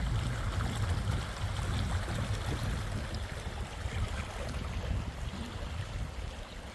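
Powerful Barron River floodwater after Cyclone Jasper rushes past in a steady, loud broadband roar with heavy low rumble, continuous throughout with no voices.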